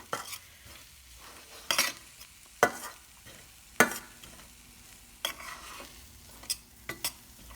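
Masala for stuffed bitter gourd sautéing in a pan, with a steady low sizzle broken by several sharp scraping stirs of a spoon against the pan at irregular intervals.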